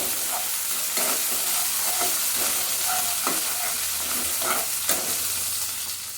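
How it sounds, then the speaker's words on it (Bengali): Turmeric and Kashmiri chili powder are stirred in a frying pan, a utensil scraping in repeated strokes about once a second over a steady, fairly loud sizzle, with no voices. "হলুদ কাশ্মীরি লঙ্কা গুঁড়ো ভালো করে মিশিয়ে নিন"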